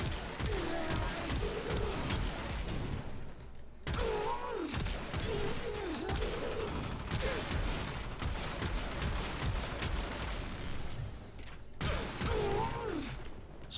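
Shedu primary weapon in Warframe fires in dense, continuous bursts with mechanical clatter and periodic impact bursts, loud and steady throughout with game effects layered over.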